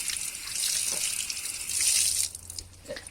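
Cold water gushes steadily over a car wheel rim being rinsed clean after an engine and rim cleaner, a close rushing spray that tapers off near the end.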